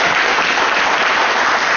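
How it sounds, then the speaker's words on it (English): Around 125 attendees at a talk give a brief burst of continuous, dense applause at a steady, loud level with no pauses. "Give a big clap for"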